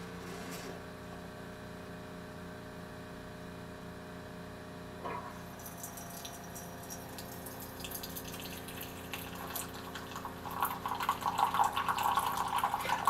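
Keurig K-2550 commercial coffee maker brewing a 10 ounce regular cup, a quiet steady pump hum and water flow that swells into louder gurgling and hissing toward the end.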